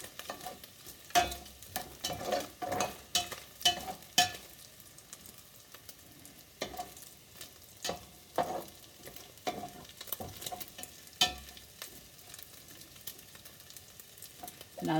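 Bacon frying in a pan over medium-low heat, a steady crackling sizzle broken by irregular clinks and scrapes of stirring, close and moderately loud with no talking.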